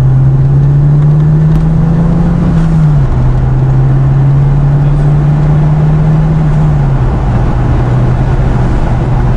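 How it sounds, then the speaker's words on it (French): A Plymouth Barracuda or Renault 5 GT Turbo engine running loud and close with a steady low drone that rises slightly in pitch as it accelerates, dips and climbs again, with no talk over it. "Je peux accélérer un petit peu?"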